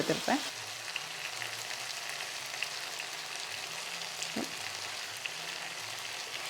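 Fresh green curry leaves dropped into hot oil in a pan for a simple curry, giving a close, steady sizzle and crackle that holds throughout with a few brief pops and no talk.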